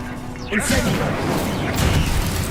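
Incendio fire spell cast in Hogwarts Legacy: a sudden whooshing burst of flame that flares up and roars on, overlapping with in-game combat noise and a voice.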